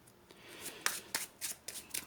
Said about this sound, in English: give that a nice shuffle